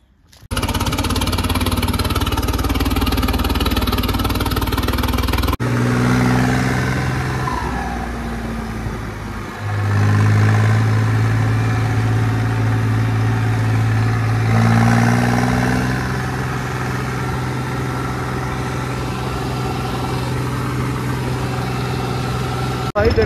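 A Mahindra 585 tractor stuck in mud runs its diesel engine loudly and close, a steady low rumble that swells into heavier revving midway and then settles again.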